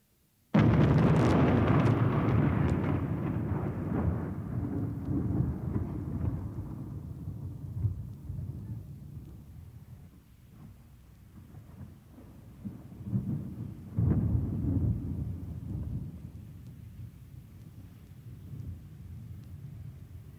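Thunder booms in a loud, close crack that rolls and slowly fades over several seconds. A second, softer rumble rises later and dies away, with a faint steady wash of rain underneath.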